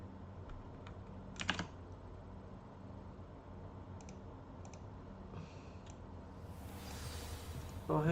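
Quiet typing on a computer keyboard during a Hogwarts Legacy gaming session: sparse, scattered key clicks with a few sharper taps over a low hum, and a faint breathy noise near the end.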